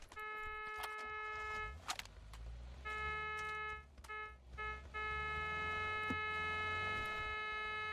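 A synthetic car horn blares in repeated long honks in PUBG, stopping and starting several times over a low engine hum.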